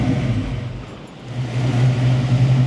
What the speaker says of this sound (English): As soon as I started it up, straight into a lope.